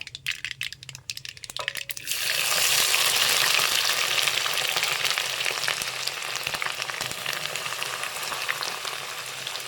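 Chopped ginger and garlic drop into hot oil; after a quiet start, a loud, steady sizzle and crackle takes over and carries on.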